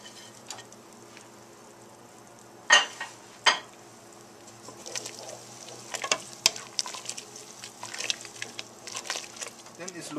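Spinach, chives and cilantro being stirred together in a pan: scattered light clinks and scrapes of a utensil on cookware, with two sharper knocks early on, over a low steady background hum.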